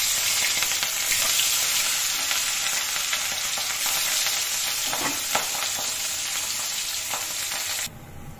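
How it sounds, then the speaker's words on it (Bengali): Rohu fish pieces frying in hot oil, a few at a time, give a loud, steady, dense sizzle that holds close and unbroken for about eight seconds before dropping away abruptly at the end. "প্রথমে আমি তেলটা গরম হয়ে এসছে, আমি রুই মাছটাকে ভাজবো"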